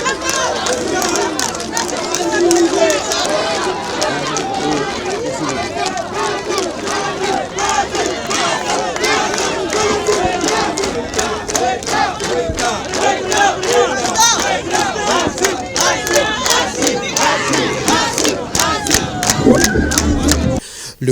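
A dense crowd cheers and shouts as a head of state takes a walkabout among the people, loud continuous roaring voices with rhythmic clapping and whistles throughout.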